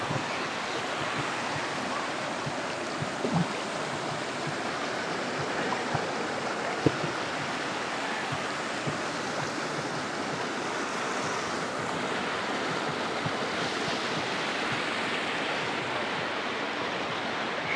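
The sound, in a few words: river water flowing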